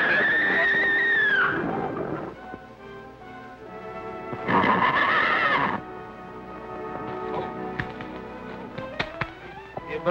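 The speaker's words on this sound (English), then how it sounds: "Much obliged for the horse, Sunset." Horse neighs loudly in a whinny near the start and again around the middle of an old color Western film, with a softer whinny at the close and faint rustling between.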